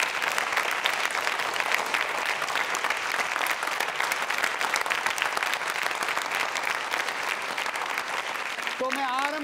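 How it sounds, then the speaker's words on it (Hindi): A university audience at a consumer protection quiz show breaks into loud, sustained applause, dense rapid clapping filling the room without pause, with a voice starting up briefly at the very end. "तालियां बजाइए इस बात के लिए, आपके लिए आप जोरदार तालियां"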